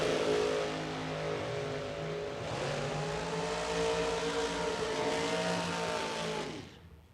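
Supercharged drag racing cars with blowers roar down the strip at full throttle, a loud, sustained high-revving howl that rises in pitch and cuts off abruptly at the end.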